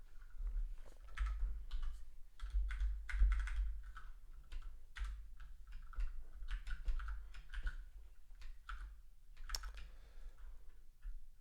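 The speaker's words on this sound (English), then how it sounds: "Sorry, new keyboard, fighting with it." Keys clatter on a new computer keyboard in quick irregular bursts of close, crisp taps with brief pauses, the faint typing heard alone without talk.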